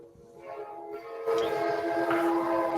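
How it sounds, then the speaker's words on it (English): A train passes close by an office, its horn giving off a steady, loud tonal drone that swells midway and holds, heard alone with no talking. "that's the train that goes through Robert's office from time to time"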